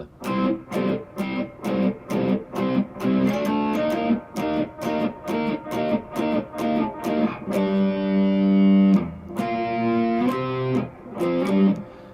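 Distorted electric guitar playing the pre-chorus riff of a song: chugging palm-muted stabs opening into sustained ringing chords, loud and rhythmic with no talking.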